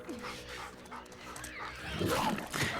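A dog in The Last of Us Part II gives short whimpers and yips, then a louder burst of barking near the end, heard close with light background noise.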